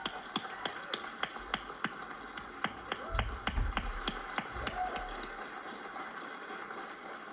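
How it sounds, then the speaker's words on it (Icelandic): Audience clapping for a team at a startup pitch event, sparse distinct claps at first growing into steadier applause, with a low rumble in the middle, fairly close and without speech. "Gefum þeim gott klapp."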